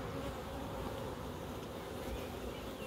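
Honeybees hum at an opened hive, a steady, dense buzzing swarm sound held evenly throughout, fairly soft and with no talking.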